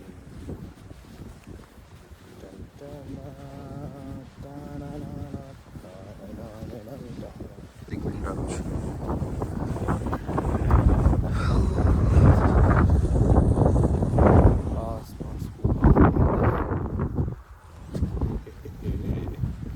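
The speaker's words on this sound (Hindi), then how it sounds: "बहुत ठंडा ठंडा हवा चल रहा है।" Cold wind blows hard through a quiet Russian village beside the Volga river, a roaring, buffeting rush that swells and gusts, battering the microphone, after a calmer stretch where someone speaks.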